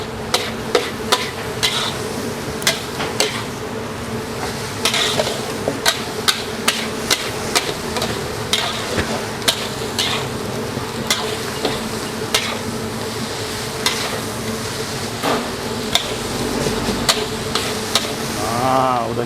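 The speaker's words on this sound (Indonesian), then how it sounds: "Kita aduk-aduk dulu sedikit." A spoon stirring instant noodles with chicken seasoning powder in a pan, steady rapid scraping and clinking taps against the metal, loud and close, with no talking.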